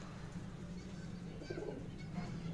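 A slate grey pigeon coos softly in a loft, its low repeated calls rising over a steady background hum, with a couple of slightly louder coos near the end.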